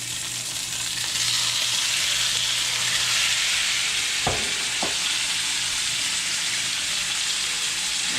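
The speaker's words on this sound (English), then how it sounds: "I put enough oil on the bottom of my frying pan and getting the oil hot. And I'm hearing it sizzle" Beef fries in hot oil in a frying pan, giving a dense, continuous sizzle throughout, with two brief clunks of the pan or utensil partway through and no voices.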